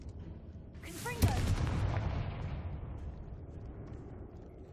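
Confringo spell cast in the video game Hogwarts Legacy, a sharp fiery blast with a sweeping whoosh that rings out loud and decays slowly into a rumbling tail.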